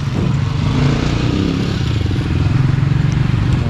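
Several motorcycles idling and revving close by in a barangay in Rojas, Isabela, a steady dense engine rumble throughout with no voices.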